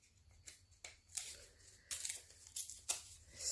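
Scrap paper is torn by hand to make a ripped edge for a journaling card, a series of quiet, close rasping rips with soft crinkles between them.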